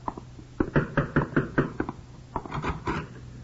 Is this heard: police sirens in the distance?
no